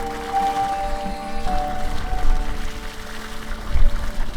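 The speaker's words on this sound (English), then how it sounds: "it is just a flowing pipe of water in the middle of the desert" Water runs constantly from a pipe fed by a sulfur-tasting well or spring in the New Mexico desert, a steady close pour and splash with a few faint tonal hums over it and no talking.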